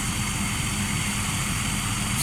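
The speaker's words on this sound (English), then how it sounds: "they call this one the sports car of helicopters" An MD500 helicopter in flight gives a constant close engine and rotor roar, dense and unbroken from start to finish with no talk.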